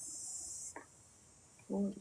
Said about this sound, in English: the cicadas to remind us of the fact that it is Earth season